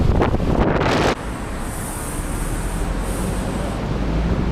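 Strong seaside wind buffets the microphone in a loud roaring rush, with a heavy gust in the first second easing into a constant blustery roar over distant surf.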